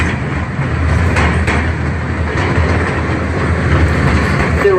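The Louisville Zoo passenger train rolls along, with a loud, steady low rumble of wheels on rails and faint clickety-clack, heard up close from on board and without talk.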